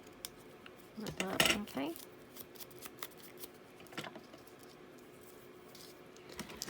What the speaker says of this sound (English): let's just cut this down, make it slightly smaller